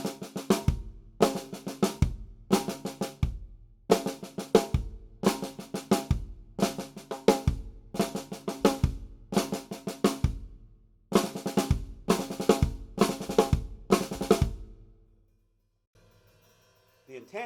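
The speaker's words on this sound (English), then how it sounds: "you're just putting a flam in front of the 5-stroke roll" Twelve evenly spaced bursts of flam five-stroke rolls played on a snare drum, each a quick cluster of crisp strokes ending in an accent, loud and close, with short silences between and a brief pause near the end.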